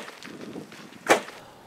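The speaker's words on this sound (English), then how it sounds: "That's the sound of the Land Cruiser's suspension smashing into a fairly small rock." A Toyota Land Cruiser's suspension bottoms out on a small rock off-road with a single sharp, brief bang over quiet rumbling from the vehicle.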